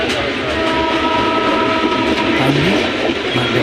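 Passenger train from Vijayawada to Nizamabad rolling across the Kanteshwar railway bridge, a loud, steady rumble and clatter heard from on board, with a brief horn near the end.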